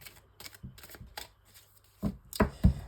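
Oracle cards shuffled by hand, a string of soft riffling bursts that build into louder, denser shuffles near the end, close and alone.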